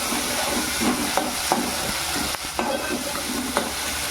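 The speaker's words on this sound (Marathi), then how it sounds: "आणि हे कांदा आणि टोमॅटो त्याच्यात टाकून घेते आपल्याला कांदा आणि टोमॅटो शिजवून घ्यायचे" Onion and tomato sauté in a pan for a broccoli bhaji, giving a steady close sizzle with soft stirring scrapes and small clinks, with no voices.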